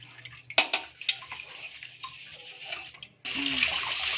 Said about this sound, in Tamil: இதை நம்ம தண்ணியில் கழுவிக்கலாம்.